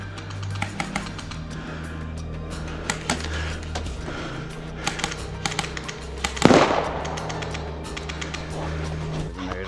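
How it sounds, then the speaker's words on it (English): A grenade thrown and exploding in a video game, a single sharp blast mid-clip set amid a steady patter of crackling gunshots and a low background hum. "I attempted to throw a grenade to take him out"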